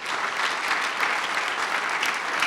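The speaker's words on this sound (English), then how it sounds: "Can we clap our hands for Pastor Dino" Audience clapping for Pastor Dino at a church leadership gathering, a steady wash of applause from a sizable crowd, even and sustained without a voice on top.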